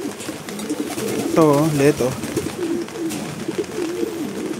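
Doves cooing at close range, with one clear rolling coo standing out amid softer calls, under a voice talking in Filipino.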